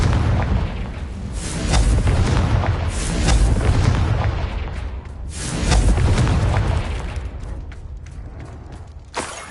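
The Confringo fire-blast spell explodes in Hogwarts Legacy as a series of heavy booming bursts that swell and fade, three big rumbling waves followed by smaller crackling pops, with no talking.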